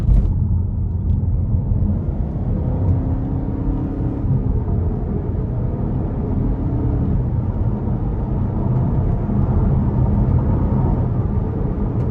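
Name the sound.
2021 Buick Envision Avenir engine accelerating under throttle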